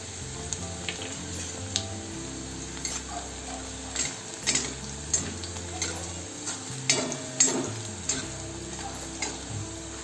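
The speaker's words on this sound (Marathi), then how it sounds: "1 ते 2 मिनिट लसूण आणि मिरची तेलामध्ये मस्त भाजून झाल्यानंतर लगेच भाजी टाकायची" Chopped garlic and green chilies sizzle steadily in hot oil with turmeric and asafoetida, a soft continuous fry broken by scattered clicks and light stirring taps of a spoon in the pan, close and fairly quiet with no talking.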